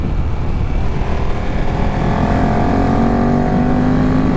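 A 2018 KTM Super Duke GT motorcycle accelerates hard in third gear on an open road, its engine note climbing steadily under loud wind rush, close and continuous throughout.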